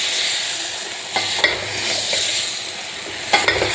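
Cooked pulicha keerai (sorrel greens) being mashed in a pan gives a soft, wet scraping and stirring texture with a few sharper knocks of the utensil against the pan, close and fairly quiet, no speech.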